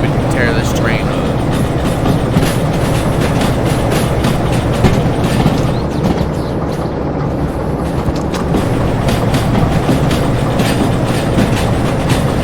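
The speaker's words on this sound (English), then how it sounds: "It's not easy to tear this thing up. You'd have to do something really stupid to tear this train up." A train rumbles steadily in the Derail Valley video game, with a constant low engine drone and faint rhythmic clicking, loud and continuous throughout.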